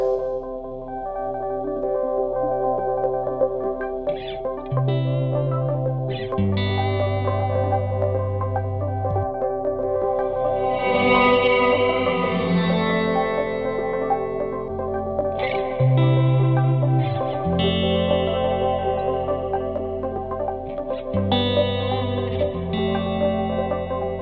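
Sustained electric guitar chords ring out through an amp, drenched in spacious reverb that lets each strum wash and linger for a long while.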